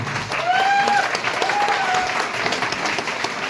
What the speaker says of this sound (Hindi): सभी लोग खड़े को जोरदार ताली करना चाहिए